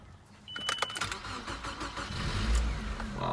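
A 1998 Nissan Sentra, parked for about a month, cranks and starts up, its engine catching and settling into a steady, rising rumble close by, with no talking.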